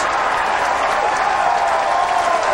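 A large crowd at a 2003 PBA Miller Open bowling event in Vernon Hills cheers and applauds a 3-7 split conversion, a steady dense roar of clapping lasting throughout at close, loud level.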